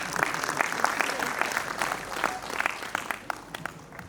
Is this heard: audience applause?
yes